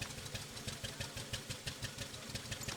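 A vintage vehicle engine idles with its planetary gearbox turning, a low, steady rhythmic chugging with regular pulses, faint and alone.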